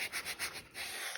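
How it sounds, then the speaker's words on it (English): Sheets of 320 grit sandpaper rub back and forth around the edges of a crafted tiered tray piece, giving soft, close, rhythmic scratchy strokes with no talk. "I'm just going to sand around the edges."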